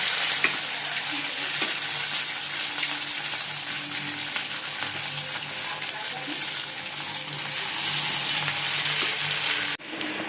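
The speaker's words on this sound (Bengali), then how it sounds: "চিকেনগুলো ভাজা হয়ে গেছে" Chicken pieces frying in oil, a loud, continuous hiss and sizzle with occasional bubbling and stirring sounds, close by and unbroken until an abrupt dip near the end.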